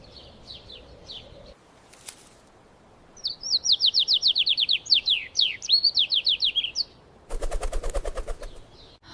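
A small bird chirps in quick repeated tweets, a few scattered calls first and then a dense, rhythmic run of sharp notes close by, with a burst of rattling noise near the end.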